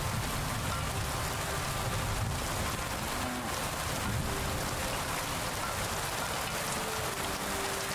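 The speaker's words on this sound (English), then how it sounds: "Nice rain sound." Steady, dense rainfall hisses evenly throughout in the medieval open world of Kingdom Come: Deliverance II during a thunderstorm, a constant wash with no voices.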